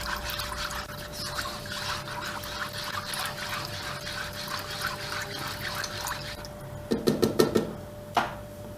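A tarhana soup mixture with garlic is stirred in a pot, giving a steady wet sloshing and trickling texture, followed near the end by a short cluster of sharp spoon taps and one more knock.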